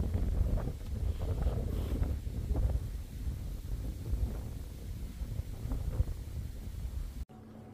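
Wind rushes steadily across an open wetland observation deck on a cool Hokkaido summer day, a low continuous buffeting roar on the microphone that runs the whole time and cuts off abruptly near the end.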